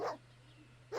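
Angry dogs in Baldur's Gate bark in two short loud bursts, one at the start and one at the end, with a quiet gap and a steady low hum in between.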